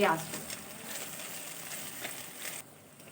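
Onions sizzle in hot oil in a pan, starting with a brief loud crackle that settles into a steady hiss before fading near the end.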